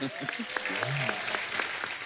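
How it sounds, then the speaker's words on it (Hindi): Audience applause at a comedy talk show taping, a sustained burst of clapping from a studio crowd, steady and moderately loud, with talk partly over it. "जोरदार ताली प्रोमो के लिए"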